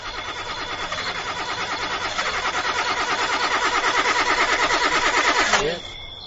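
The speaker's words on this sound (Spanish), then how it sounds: "Este coche siempre me deja tirado en el peor momento." Car engine repeatedly cranking and failing to start in a radio drama sound effect, a rhythmic whirring churn that builds for several seconds and then cuts off abruptly.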